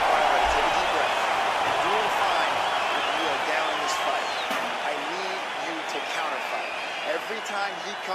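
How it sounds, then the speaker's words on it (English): A video game crowd in EA Sports UFC 4 applauds and cheers after a round, a steady loud wash of arena noise with bounces and thumps, with commentary talking over it. "the crowd voicing its appreciation after that round"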